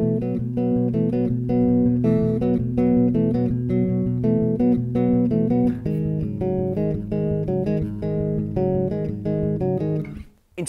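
Bass guitar plays the opening riff of a song, using extended power chords in a steady, repeating pattern that stays loud and close throughout.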